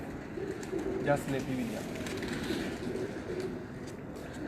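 Pigeons coo on a rooftop in Faisalabad, soft repeated calls layered under ongoing men's conversation and a steady outdoor background hum.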